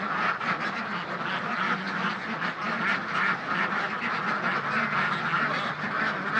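A crowd of laying ducks in a dry colony coop quacks continuously, with many overlapping calls forming a loud, dense chorus throughout.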